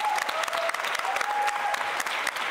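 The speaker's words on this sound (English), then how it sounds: "Can we give them a big round of applause?" Dense, steady applause from a game-show studio audience fills the whole moment, with no pauses.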